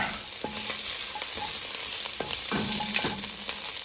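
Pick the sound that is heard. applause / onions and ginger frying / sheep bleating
onions and ginger frying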